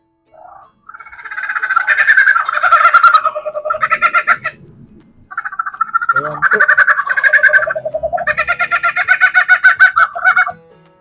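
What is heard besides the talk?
electronic multi-tone horn sound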